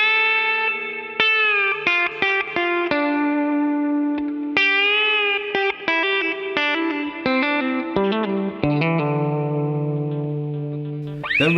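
Electric guitar plays the opening part of a song's solo, a loud run of quick picked notes and bends with effects and echo, continuous and alone with no talking.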